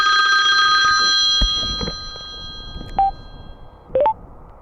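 A phone rings with an incoming call beside a newly collected Suzuki DL800RE V-Strom motorcycle, a sustained electronic ring tone fading out, then a few short beeps follow.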